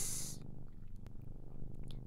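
A cat purrs steadily and close, a low continuous rumble with a soft rhythmic pulse, alone with no talk.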